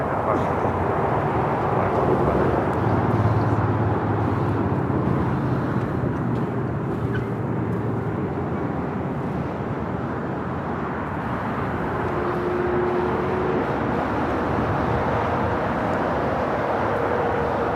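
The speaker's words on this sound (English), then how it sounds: "I got that China Airlines cargo 777 freighter." A China Airlines Boeing 777 cargo freighter at LAX produces a loud, steady jet engine roar that lasts throughout, with a deep low rumble underneath and a faint voice in the background.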